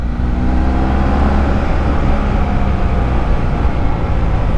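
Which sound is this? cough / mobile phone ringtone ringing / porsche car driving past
porsche car driving past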